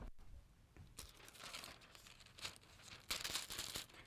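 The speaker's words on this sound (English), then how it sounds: "our foil is cooled down enough, so we can go ahead and peel that off" Cooled monogramming foil is peeled away from fabric, giving faint crinkling and tearing rustles in short bursts, with quiet gaps between them.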